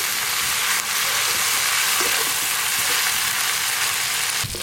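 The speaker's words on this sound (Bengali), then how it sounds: "চিংড়ি মাছগুলো তো বেশ ভালো করে ভাজা হয়ে গেল" Prawns frying in a pan of oil, a steady, close sizzling hiss that runs unbroken throughout with faint stirring clicks and no voices.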